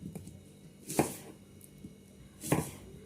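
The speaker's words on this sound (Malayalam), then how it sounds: "അപ്പം ഉള്ളി തൊലിച്ച് വെച്ചിട്ടുണ്ട്. നമ്മൾ കട്ട് ചെയ്യാൻ പോവാണ്." A knife chopping peeled onion on a board at home, with two distinct crisp cuts and a few softer taps in an otherwise quiet kitchen.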